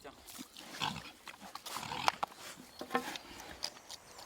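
Pigs grunting on a farm fed on bran and whey, a run of short snorting grunts at close range, with some background voices and movement mixed in.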